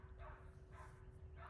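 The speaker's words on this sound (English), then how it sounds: "Neighbors 2 doors down have 4 dogs tied up in the backyard" Dogs tied up in a neighbors' backyard two doors down bark in three evenly spaced yips, faint and distant under a low hum.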